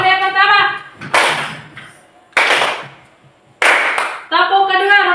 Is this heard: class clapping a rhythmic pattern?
yes